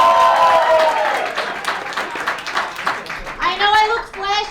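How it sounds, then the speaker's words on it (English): Comedy show audience applause and cheering, a loud crowd clapping near the stage, with a voice talking over it and rising whoops or cheers toward the end. "Give them a round of applause."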